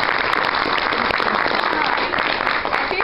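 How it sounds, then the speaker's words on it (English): A church congregation at a vacation Bible school gathering breaks into sustained, dense hand clapping, steady and close, filling the room for several seconds. "Give her another hand clap."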